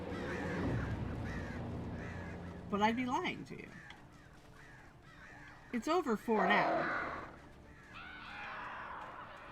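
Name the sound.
crows cawing in video game Alan Wake Remastered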